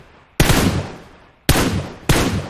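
Automatic gunfire in the battle royale video game PUBG: three loud, close bursts of rapid shots, each starting abruptly and trailing off over about half a second to a second, with no talking.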